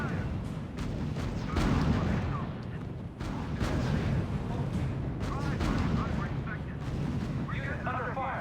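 Battlefield din from the R.U.S.E. video game: dense artillery booms and crackling gunfire roll continuously, with game voices and radio chatter mixed in over the barrage.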